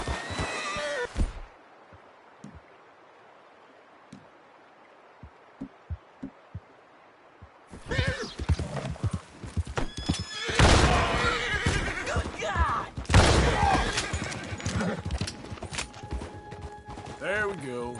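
Horse in the Red Dead Redemption 2 video game neighing and galloping, with a brief whinny at the start, a quieter stretch of rhythmic hoof thuds, then loud, dense galloping and snorting layered with game effects and ambience.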